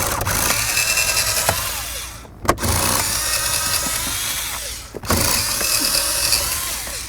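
Power tool whirring as it backs out glove box mounting bolts on a 2005–2016 Ford Mustang, three sustained close runs split by two brief pauses, with a sharp click at each stop.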